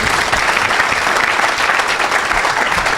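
A crowd at a church evangelism event applauds loudly and steadily, a dense, continuous wash of clapping with no pauses.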